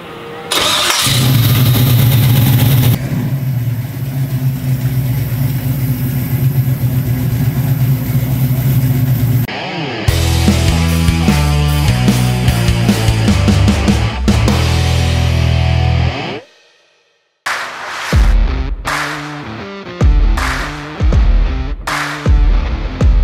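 A 1987 Buick Regal engine cranks and fires up loudly, then settles into a rough idle with revving. It drops briefly silent before restarting with more loud, close revs.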